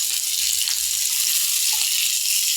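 Breakfast sausage frying in a small amount of cooking oil in a pan, giving a steady bright sizzle and hiss that runs continuously, with faint low thumps beneath it.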